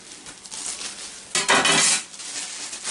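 Parts of a Brooklyn Brownie Copper pan, including its bottom piece, are handled close by with clinks and metallic clatter, marked by one louder rattling burst midway and otherwise quiet handling.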